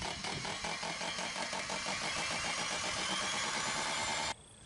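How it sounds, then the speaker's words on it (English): A 6-inch hole saw on a drill runs in reverse through house siding, giving a steady, loud whirring drone with a rhythmic grinding pulse that holds for about four seconds, then cuts off abruptly. "You need a 6-inch hole saw. Go through the siding in reverse so you don't damage the siding."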